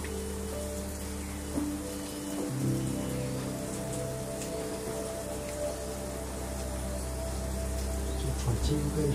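Steady rain falls throughout, a continuous hiss with a few louder drop patters, over a low constant hum, during a long-distance cycling tour through China.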